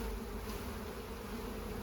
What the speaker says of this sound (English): we're gonna shake these bees off